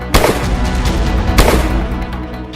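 Rifle fire recorded on a phone, two loud sharp close shots about a second apart, each with a booming echoing tail over a noisy outdoor background.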